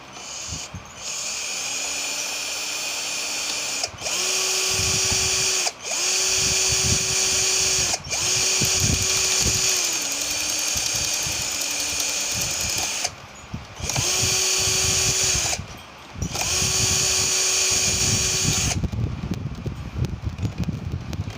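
A handheld electric drill whines loudly in repeated bursts, each a few seconds long, stopping briefly between runs and falling quiet at the end.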